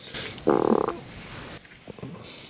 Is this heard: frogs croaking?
yes